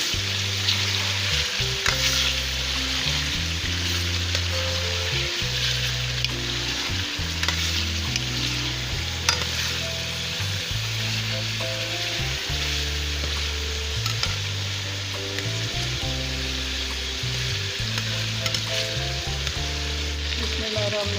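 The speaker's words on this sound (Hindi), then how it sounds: "इसको फ्राई करेंगे।" Half a kilo of chicken sizzles and crackles steadily in hot oil for pulao, a dense, close frying hiss with occasional stirring scrapes and no talking.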